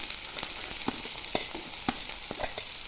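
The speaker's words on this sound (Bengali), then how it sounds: "একটু ভেজে নিলাম ভাজা ভাজা হয়ে গেছে" Potato pieces fry in hot oil with onion and cumin for a ridge gourd curry, giving a continuous close crackling sizzle punctuated by sharp taps of a spatula against the pan.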